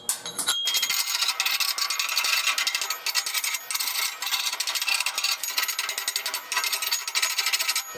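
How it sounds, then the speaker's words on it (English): A chipping hammer knocks and scrapes slag and dross off welded steel for a fireplace grate, giving a continuous loud metallic rasping and rattling with rapid irregular impacts, close by. "that comes off really easy with a chipping hammer"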